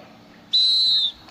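At a swimming competition, a single shrill whistle blast sounds loud and clear for about half a second above low background murmur.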